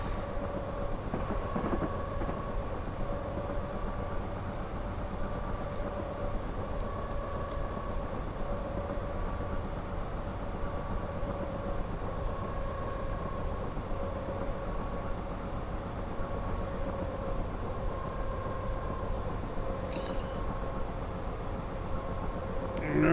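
Modern train running in Train Simulator Classic, a steady faint rumble of the cab with a sustained tonal whine held for the whole stretch, no talk.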